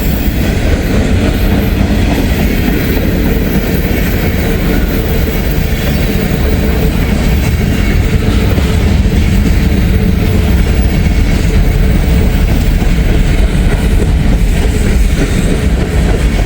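A long freight train loaded with auto racks carrying SUVs rolls steadily past on a steep grade, a loud, continuous rumble with rhythmic clickety-clack of wheels over rail joints, close by and unbroken throughout.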